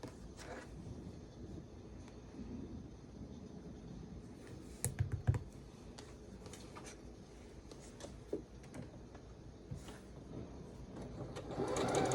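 Sewing machine stitching a quilt block for a pressed flowers block of the month, faint rapid ticking of the needle with a few sharper clicks, quiet and close.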